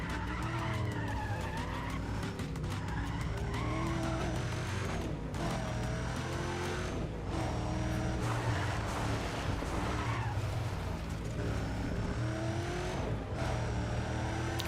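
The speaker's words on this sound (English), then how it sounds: "I also am in love with the engine sounds." Race cars in the game Need for Speed ProStreet roar continuously at high revs, with engines climbing and dropping through gear shifts and tyres skidding, loud and dense throughout with no talking.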